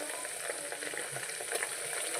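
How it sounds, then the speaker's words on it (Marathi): Masala with green chillies sautéing in a pan gives a steady, close hiss of frying with light stirring scrapes, constant and unbroken with no talk. "मसाला चांगला भाजला पाहिजे।"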